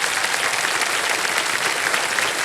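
Loud, dense applause from a studio audience on the Kaun Banega Crorepati quiz show, a continuous roar of many hands clapping, with no voices over it.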